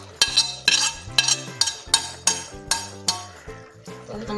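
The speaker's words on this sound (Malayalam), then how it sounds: "അപ്പം ഞാൻ ഈ അരപ്പ് ഇതിലേക്ക് ചേർത്ത് കൊടുക്കാൻ പോവാണ്." A spoon scrapes and knocks against a metal pan as crushed spice paste goes into a jackfruit dish, giving a loud, close run of about a dozen ringing clanks at a steady rhythm with no talking.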